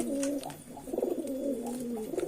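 A racing pigeon coos softly in a low, throaty warble while being held, its murmuring calls rising and falling in short overlapping phrases close by, with faint background noise.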